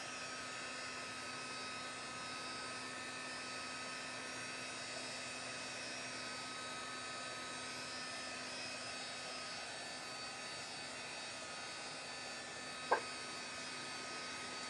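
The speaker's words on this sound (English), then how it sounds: "I'm just throwing a heat gun on that" A heat gun drying paint on an art journal page blows a constant, even whirring hum with a steady high whine throughout, close and unchanging, with a single tiny click near the end.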